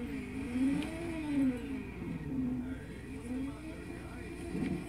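A race car engine in Just Cause 3 hums and whirs with gently rising and falling revs through the whole stretch, moderately loud, with a voice talking over it.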